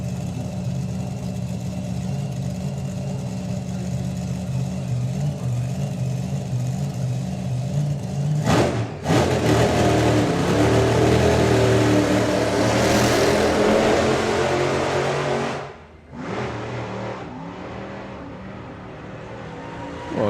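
A methanol-burning nostalgia drag racing car's engine idles loud and close, a rough, heavy rumble that swells and holds as it revs, with one brief cut partway through before settling back to a steady roar.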